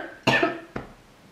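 Two coughs from one person, a loud harsh burst followed about half a second later by a shorter, weaker one, close to the microphone in a quiet room.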